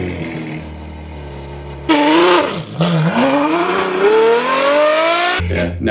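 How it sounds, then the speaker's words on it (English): A naturally aspirated Ferrari engine idles low, then blips into a sharp, loud rev that dips and climbs steadily higher over several seconds before dropping back to idle, close and unaccompanied by voices. "naturally aspirated Ferrari"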